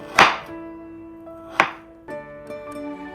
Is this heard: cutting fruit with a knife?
yes